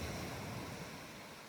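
Ocean surf rolls as a steady, broad wash of noise with wind buffeting, fairly faint and without voices.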